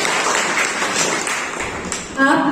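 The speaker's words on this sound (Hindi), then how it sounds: "हम तालियों से उनका स्वागत करेंगे, जोरदार तालियों से।" A college audience gives loud, sustained applause to welcome guests at a blood donation awareness program. The dense clapping fills the moment before a voice starts speaking near the end.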